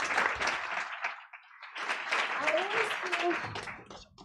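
An audience at a Lionesses of Africa event claps to welcome the program coordinator to the front, a moderately dense patter of applause that dips briefly, then resumes, mixed with voices speaking over it.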